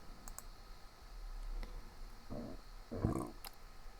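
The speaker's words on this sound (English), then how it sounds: "Now if you click on that," Several light computer mouse clicks, close and fairly soft, spaced irregularly over a quiet background with a couple of slightly louder clicks near the end.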